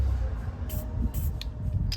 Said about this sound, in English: And then we're gonna spray this with some WD-40.